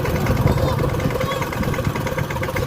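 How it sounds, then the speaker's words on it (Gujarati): A tractor engine runs steadily with a dense, rumbling drone and constant vibration, close and loud throughout, with faint voices in the background. "બેન ટ્રેક્ટર આવશે"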